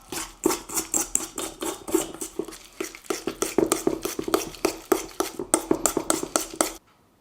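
Butter being stirred together with salt and a spice rub in a bowl: a steady run of quick, rhythmic utensil scrapes and taps, close and fairly quiet, ending abruptly.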